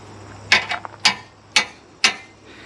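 Four sharp metallic knocks, evenly spaced about half a second apart, ring out close by with a brief clatter after the first.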